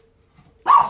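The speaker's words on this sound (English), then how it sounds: "Sorry for the dog." A dog barks loudly and close once, a single sharp bark bursting out after near silence, heard during a craft session painting a carrot on a wooden bunny block.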